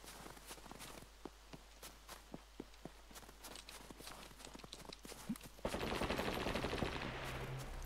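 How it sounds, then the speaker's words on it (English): Gunfire in the survival video game SCUM during a PvP event: sharp scattered shots and footsteps, then a louder dense burst of sustained firing, with no talking. "I'm evading bullets left and right, dude."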